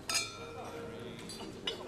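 Glasses clink together in a toast, a bright chime at the start and another near the end, both fairly faint, with quiet murmuring and room sounds in between.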